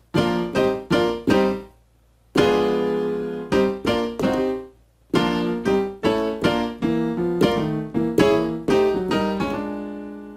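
Piano chords strike in rhythmic clusters, moving through a soulful gospel progression with short pauses between phrases, played close and clearly.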